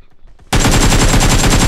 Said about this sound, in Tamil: பட்டாசு போட்டுறான்